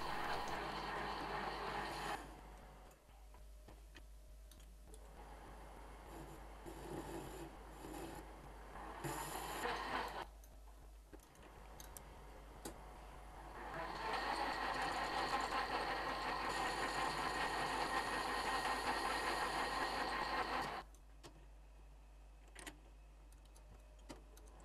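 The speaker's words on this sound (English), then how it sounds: "I used my bandsaw to lop off a 50mm long piece of quite hard material to act as a surrogate stub shaft" A bandsaw cutting a 50 mm piece off hard metal stock in a home workshop, with long stretches of steady, gritty rasping and blade whir broken by quieter pauses, heard up close over a constant low mains hum with no talking.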